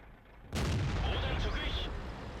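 A single loud STB-1 tank cannon shot in World of Tanks booms out suddenly and close, followed by a rumbling, fading tail with a faint whine over it.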